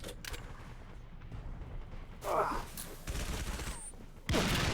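Gunfire in Halo 3 ODST, with intermittent bursts and sharp blasts amid battle noise, a couple of louder impacts standing out, and voices talking over the fighting.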